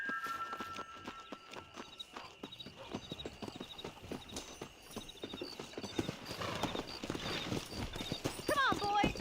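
Horse hooves clip-clop steadily while riding in the video game Red Dead Redemption, a walking rhythm of hoofbeats that builds louder toward the end, with voices talking over it and a brief whinny-like sound near the close.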